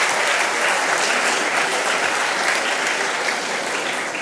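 A large audience at a school prize-giving ceremony applauds loudly, a dense, continuous wash of clapping from many hands that holds steady without a break.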